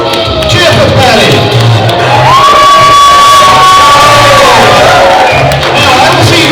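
Loud audience cheering and whooping at a steampunk fashion show at a convention, a dense crowd roar with shouts and high cheers rising and falling over about six seconds.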